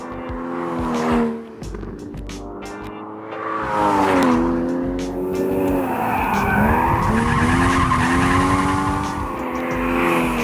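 Porsche Cayman S sliding on a race track, tires squealing in long wavering screeches while the engine revs rise and fall, loud and close throughout.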